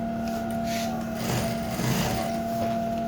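Sewing machine stitching a native trouser seam down toward the crotch line, a steady whirring hum with a constant tonal drone running throughout, close and moderately loud, with no talking.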